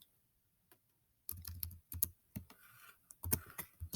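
Keys on a computer keyboard are typed in quick irregular bursts of close, crisp clicks after a brief quiet start, entering a new folder name.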